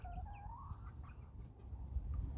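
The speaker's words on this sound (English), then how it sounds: "Pretty cute little chickens, huh?" Several small backyard chickens cluck and chirp while foraging for bugs, soft calls rising over a low outdoor rumble.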